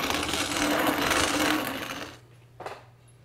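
Homegrown corn is ground into coarse cornmeal, giving a steady, loud, rough grinding roar for about two seconds that then stops, followed by a quiet pause and one brief knock.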